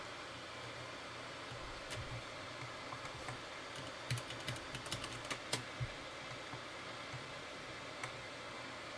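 Scattered computer-keyboard keystrokes during a GeoFS flight simulator session, quiet and close, bunching into a brief flurry midway over a faint fan-like hiss.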